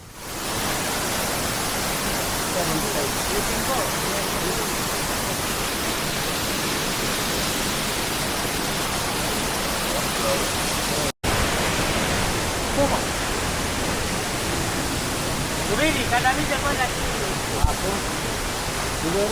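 Water from a small waterfall pours steadily over stones near Bukoba, Tanzania, a dense continuous rushing that stays loud and even throughout, with only a brief break.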